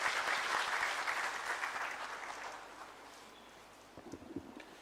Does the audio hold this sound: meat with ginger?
no